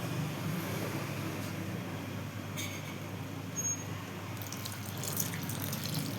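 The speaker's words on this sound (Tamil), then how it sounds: "இப்போ கொஞ்சம் பால் ஊற்றிக்கலாம்" Milk is poured into a pot while making paal kozhukattai, Tamil milk dumplings, giving a steady, soft liquid splash and trickle that runs for several seconds, fairly quiet, with a few clinks near the end.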